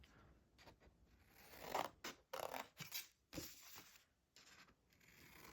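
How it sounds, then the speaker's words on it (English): Scissors snip paper at an angle while cutting squares out of an envelope, giving several close, quiet, irregular crisp cuts with short pauses and light paper rustling between them. "I'm just cutting at an angle to get those squares out."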